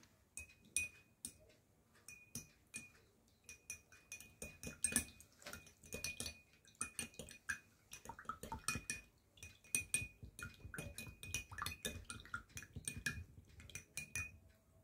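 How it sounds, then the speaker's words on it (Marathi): A metal spoon clinks repeatedly against a container while stirring water, in quick irregular bursts lasting several seconds. "नंतर या चमच्याच्या साहाय्याने हे ढवळून घेऊ."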